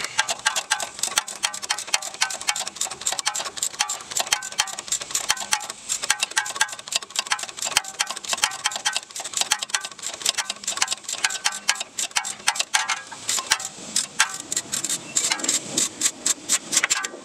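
A socket wrench ratchets in rapid, continuous clicking bursts while breaking loose a strut bolt on a 2004 Kia Sorento, close and dry with no voices.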